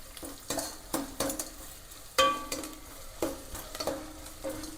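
Onions frying with salt in a pan for a mushroom gravy, with a spoon stirring and scraping in repeated short strokes over a soft sizzle, close and moderately loud, with no talking.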